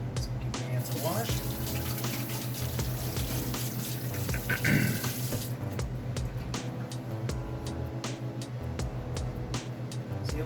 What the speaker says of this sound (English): So give my hands a wash.